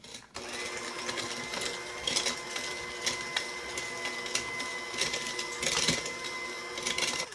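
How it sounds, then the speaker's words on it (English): An electric hand mixer beats eggs and sugar for banana bread. Its motor gives a steady whirring drone broken by regular louder bursts as the beaters hit the bowl, at moderate volume with no speech. "just whip out the little hand mixer and do this"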